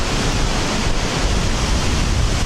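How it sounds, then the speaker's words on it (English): Heavy wind sweeping across an island coast makes a constant, loud broadband rush with low buffeting rumble, unbroken by speech. "This is some serious wind."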